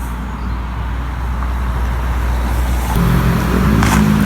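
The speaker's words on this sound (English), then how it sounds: "The traffic at the Sturmont Arches Bridge here, you can see how busy it gets." Busy road traffic at the Sturmont Arches Bridge on Sturmont Road in Haverhill, a loud, continuous roar of cars and heavier vehicles passing close by, swelling louder toward the end with a deep engine drone.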